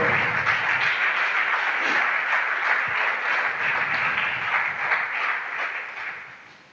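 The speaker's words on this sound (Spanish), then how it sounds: "Dele ese aplauso al Señor fuerte." Sustained congregation applause during a Spanish-language church sermon, a dense steady roar of clapping that holds for several seconds and then fades out toward the end.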